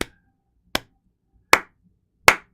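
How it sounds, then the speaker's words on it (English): Four sharp hand claps spaced evenly about three-quarters of a second apart, crisp and close, each decaying quickly into silence, marking a slow counted beat. "I'm going to count it and clap"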